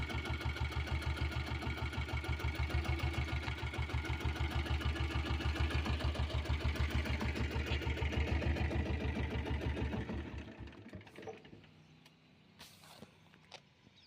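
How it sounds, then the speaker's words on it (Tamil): A Royal Enfield Bullet diesel motorcycle engine runs with a steady, rapid thumping idle, loud and close, then drops off and goes quiet after about ten seconds, leaving a few faint clicks and knocks. "ஓகே ஃப்ரெண்ட்ஸ், இந்த வண்டி ஸ்டார்ட் பண்ணி காமிச்சிருப்பேன்."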